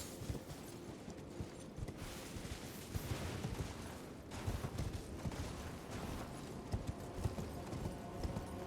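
Horse hooves clip-clop at a steady canter in the video game Elden Ring, soft and rhythmic under faint game ambience with occasional metallic clanks.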